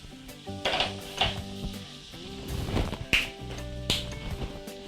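Garlic frying in a mix of oil and butter in a pan, with a steady close sizzle broken by scrapes and clinks as it is stirred.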